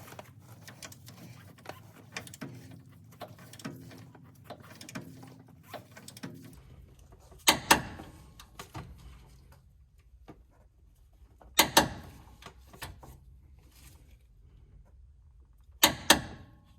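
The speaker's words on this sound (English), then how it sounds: "Now we're going to go ahead and torque the uppers to 120." Torque wrench tightening the upper link bolts on a Jeep JT/JL during a long arm suspension install: rapid ratcheting clicks in bursts, then three sharp, loud metallic clicks spaced several seconds apart as the set torque is reached, no talk.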